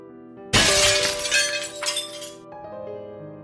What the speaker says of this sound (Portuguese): De repente, a janela que eu estava de frente se quebra.